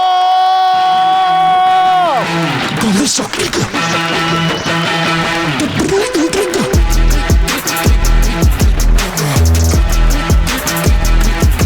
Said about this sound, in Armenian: եկեք բարձր ծափերով դիմավորեք